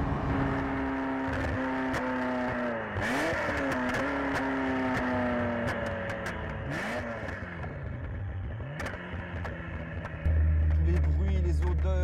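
A Ferrari supercar engine drones and revs with exhaust pops and crackles, the pitch sweeping as it accelerates, heard close from inside the car while someone talks over it.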